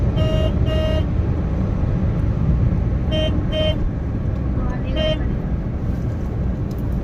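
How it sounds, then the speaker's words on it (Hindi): A car horn honks in several short bursts, mostly in pairs, while the car tries to overtake on a four-lane Indian highway, over loud road and engine noise. "हॉर्न बजाने से कोई मतलब नहीं है, ये साइड देंगे नहीं"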